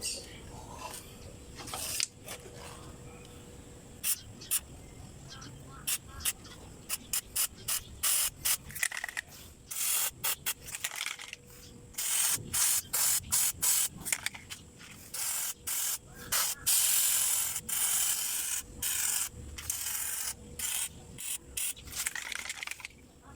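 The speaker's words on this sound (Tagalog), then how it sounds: "So ngayon, ispray na natin." Aerosol spray paint applied to a Mitsubishi Lancer headlight, close-up hissing bursts repeated in short irregular blasts, some longer and denser near the end, with brief pauses between.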